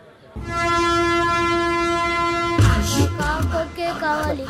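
A train's horn blasts steadily and loudly for about two seconds, then gives way to the clatter of a moving train, with voices and busy noise close by.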